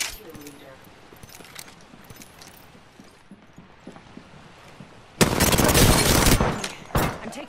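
A loud burst of rapid video game gunfire erupts near the end of a ranked shooter match, with a short second volley after it. Quieter game noise and talk come before it.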